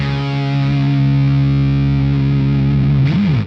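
Distorted electric guitar through a KHDK Annihilator II octave pedal, a thick sustained chord ringing out, then a short bend near the end.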